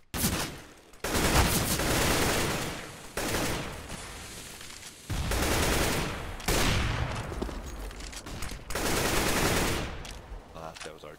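Automatic gunfire sprays in repeated long bursts from a first-person shooter match, loud and dense, separated by brief pauses, with a voice talking faintly underneath.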